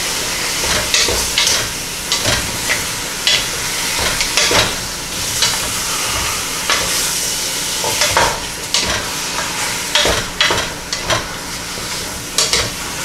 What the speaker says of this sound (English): I'm gonna use a wooden one here. I'm just gonna stir it around.